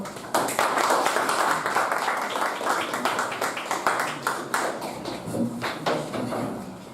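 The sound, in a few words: applause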